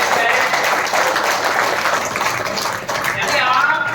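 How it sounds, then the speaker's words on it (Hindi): Audience applause at a business presentation, heard as a loud, continuous wash of many hands clapping that holds steady throughout, with a possible voice faintly mixed underneath. "आपके हाथों से तालियां ऑटोमेटिक निकलता है कि नहीं देख लेते"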